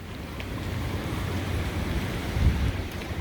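Strong hurricane wind gusts roar steadily past the microphone along a storm-battered New Orleans road, a continuous low rumble with a louder burst near the end and no voices.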